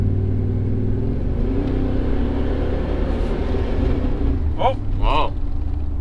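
A car engine revs hard and bounces off the rev limiter, a loud steady drone with rising strained notes near the end and a startled voice exclaiming over it.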